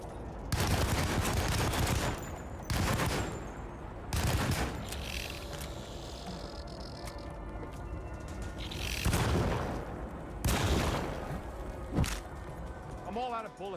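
Gunfire in Alone in the Dark (2024), several loud bursts of shots and booms spread out, with a person talking over the action at times.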